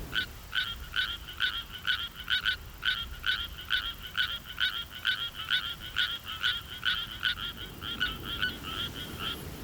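Suwon tree frog calling from a rice paddy, a rapid, evenly spaced series of bright croaks repeating about twice a second, loud and near over a soft background hiss.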